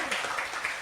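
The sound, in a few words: audience applause for Siki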